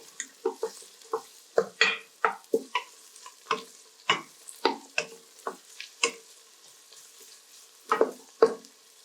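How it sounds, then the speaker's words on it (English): Garlic ginger paste fries in a pan while a utensil stirs it, producing a rapid series of sharp scraping strokes over a soft sizzle, close and fairly quiet, with no talking. "And I will add the garlic, ginger paste, and stir it well."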